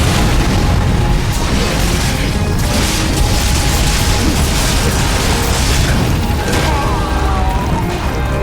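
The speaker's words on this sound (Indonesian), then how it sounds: "Meledak dong." A heavy, sustained explosion in Wild Hearts during a fight with a lava beast rumbles loudly with dense crackling and booming throughout, a continuous wall of noise with a faint tone sweeping near the end.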